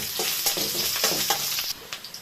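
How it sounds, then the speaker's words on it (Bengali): Broad beans and potatoes fry in a pan with a bright, steady sizzle, punctuated by several stirring clatters and scrapes, fairly close and without talk. "তো এখানে শিম আলু ভাজার জন্য বসিয়ে দিচ্ছি"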